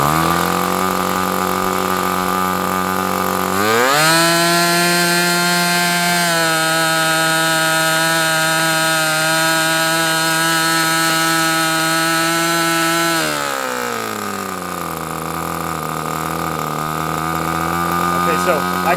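A small two-stroke engine under a carburettor test with different spark plugs revs up sharply, holds a steady high buzzing drone, then drops back toward a rough idle as it fades, loud and close; someone talks briefly.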